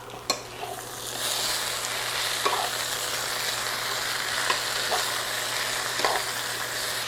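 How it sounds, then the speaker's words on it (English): Sliced vegetables being stirred into potatoes in a pan, producing a steady broad sizzle and frying hiss with a few soft scraping clicks from the utensil spaced every couple of seconds, close and continuous, without speech. "we're going to stir this around"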